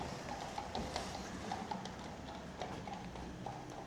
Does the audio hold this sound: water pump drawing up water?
no